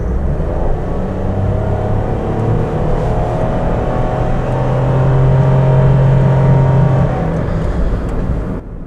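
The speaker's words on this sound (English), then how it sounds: "That noise you heard is because this Nissan Micra is equipped with the CVT automatic gearbox" A Nissan Micra with a CVT automatic gearbox accelerates hard to overtake, its engine droning at a steady high pitch that rises only slightly and holds, loud and continuous throughout with no voices.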